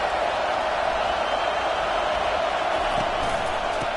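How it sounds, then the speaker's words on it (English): A stadium crowd in the College Football 25 video game keeps up a steady, dense roar with no breaks, like a wall of distant cheering filling the whole stretch. "This crowd bringing the energy and noise early."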